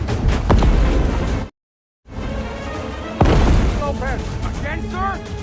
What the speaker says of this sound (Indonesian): Mereka yang terkecoh pun lalu menembakkan bom air.